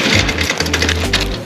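A clothes dryer tumbling a large household laundry load at home, giving a steady close mechanical hum with a low drone and broadband whir throughout.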